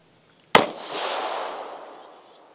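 A single sharp pistol shot, from a Beretta APX A-1 or Taurus GX4 fired at a range, cracks loudly and close, then trails off in a long echoing decay with no talking.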